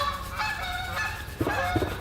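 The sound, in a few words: geese honking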